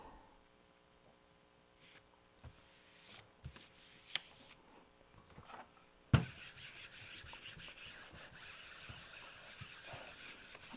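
Paper rubbed hard by hand over a gel printing plate to lift a layer of paint, first as light intermittent scuffs, then a louder continuous scratchy rubbing after a sharp contact, close up with no talking.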